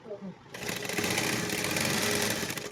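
A sewing machine stitching a pant runs in a steady, fast whirring drone after a brief quiet start, close and continuous until the end.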